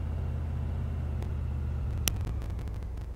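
A car in the DayZ video game drives nearby, a steady low engine rumble with a faint whine, joined by a few brief clicks and thuds late on.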